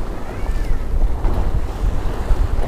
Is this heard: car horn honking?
no